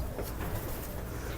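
A female racing pigeon gives a short, soft, low cooing call, close by and alone, lasting only a moment against faint background noise.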